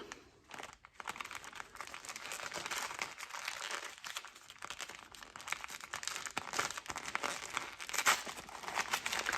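Stickers being peeled off, a close, continuous papery crinkling and tearing that goes on for several seconds with no talking.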